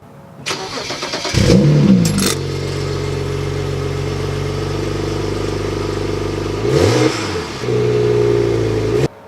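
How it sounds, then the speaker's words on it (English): A BMW N54 335i with stock exhaust starts and idles up close, a steady loud mid-pitched drone with a brief rev near the start and another around seven seconds, no talk over it. "so that you can hear the stock exhaust without everything, without what I'm doing done"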